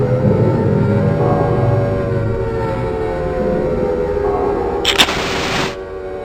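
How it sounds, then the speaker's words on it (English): A civil defense siren wails across the town of Silent Hill in the horror game, a sustained drawn-out tone with distant echoing harmonics over a low rumbling bed, ending in a brief bright burst before fading. "First, you hear a siren go off in the distance, an alarming noise that echoes throughout the entire town."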